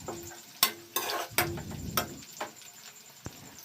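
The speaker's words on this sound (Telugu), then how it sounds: "బాగా దోరగా వేగినేసి ఉండి అలా బాగా వేగిపోవాలి." Ingredients for chicken biryani fry in a pan, with soft sizzling under a few sharp scrapes and clinks of a spoon stirring against the pan.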